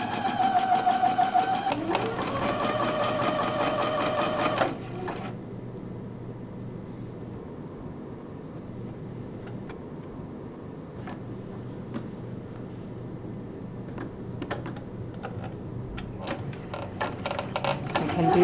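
A sewing machine set to a basic zigzag medium stitch runs in a steady, loud burst for about five seconds, then falls to a low hum before starting again briefly near the end. No one speaks.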